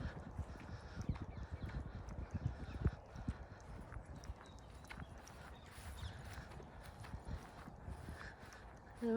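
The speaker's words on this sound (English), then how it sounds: "His little harness rattles when he runs past" A steady, rapid jingling and clopping rattle of a small dog harness and collar bouncing with each stride, close by and then easing off.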